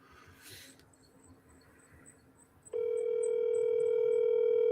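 A phone call placed on speakerphone, with a faint electronic chirp pattern followed by a loud, steady ringback or dial tone that starts partway through and holds to the end.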